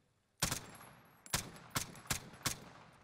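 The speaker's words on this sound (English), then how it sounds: "Then I'm going to do 5 shots at the head." AK74u fire in a video game: a single sharp burst, then four evenly spaced loud gunshots about a third of a second apart, close and crisp with no talking over them.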